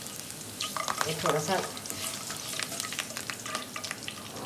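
Curry leaves crackle and sizzle in hot oil for a kabab fry keema, a close, busy spitting with sharp pops, and a voice briefly speaks over the frying.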